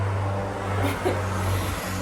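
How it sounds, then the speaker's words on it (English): A car engine hums steadily nearby with a low drone, briefly swelling as it passes, no voices over it. "we can wait for this car"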